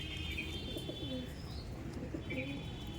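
Madras pigeons coo softly in short repeated phrases inside a loft over a steady hum of indoor background noise, with a few faint chirps.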